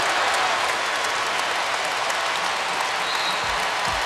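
The crowd roars at Allen Fieldhouse during a Stanford at Kansas college basketball game, a dense, loud wash of cheering and applause filling the whole stretch without letup.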